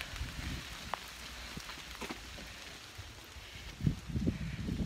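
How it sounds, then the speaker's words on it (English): Rain falls outdoors on an English day as a soft, steady patter with scattered light drop ticks and a few louder bumps near the end, with no voices. "today is not a very nice day, actually, because it's raining"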